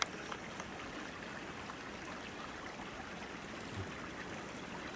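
Steady, soft rush of flowing creek water, a continuous gentle babble with no voices, quiet and even throughout.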